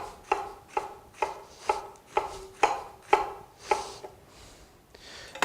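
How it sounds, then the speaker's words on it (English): A knife chops fennel finely on a cutting board, about ten crisp, evenly spaced strokes close up, with no one talking. "Now I'm going to turn this and give this a quick chop"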